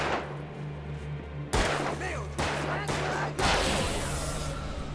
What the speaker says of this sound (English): Wow, you were terrible at shooting